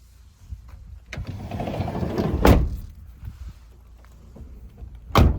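A 2011 Opel Vivaro 2.0 115 hp passenger van has its door shut quietly: soft mechanical rattling and sliding build up to a muffled thud, then another soft thump follows a few seconds later.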